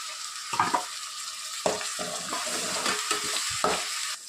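Tomato paste is stirred into sizzling ginger garlic paste in a pan for egg curry, with irregular bursts of spoon scraping and clatter over a steady, moderate frying hiss.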